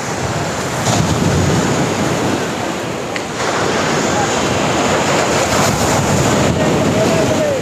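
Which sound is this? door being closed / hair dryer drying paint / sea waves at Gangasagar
sea waves at Gangasagar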